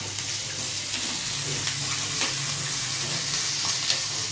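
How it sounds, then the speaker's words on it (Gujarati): Mustard seeds and asafoetida crackle in hot oil for a Gujarati tempering, a steady close sizzle with scattered pops and faint stirring throughout. "જ્યાં હિંગ ને રાઈ મૂકીને વઘાર કર્યો ને"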